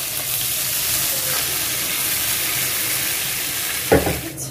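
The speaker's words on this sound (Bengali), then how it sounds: "এগুলোকে আমি এখন একটু ভালো করে ভেজে নিব" Bay leaves and ginger garlic paste fry in oil, a loud, even sizzling hiss that holds steady, broken near the end by a sharp clank of a utensil against the pan.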